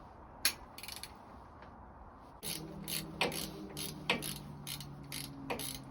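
A ratchet loosens the rocker box bolts on an Evolution motorcycle engine, giving short bursts of rapid, close clicking, with a steady low hum joining from partway through.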